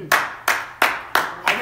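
Five sharp hand claps in a steady, evenly spaced rhythm, close and crisp.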